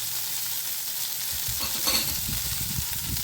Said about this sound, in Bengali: এগুলো ফ্রাই হয়ে যাচ্ছে, বয়েল করা আমি জাস্ট একটু ফ্রাই করলাম চিলি ফ্লেক্স দিয়ে।